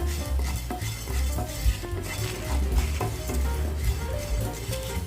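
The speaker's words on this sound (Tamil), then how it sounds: "துவரம்பருப்பை எடுத்து ஒரு தட்டில் போட்டுட்டு நம்ம தனியாவை சேர்த்து வறுக்கணும்." Coriander seeds dry roasting in a kadai are stirred continuously, giving a close, steady rustling scrape with faint sizzling and occasional clinks of the spoon against the pan.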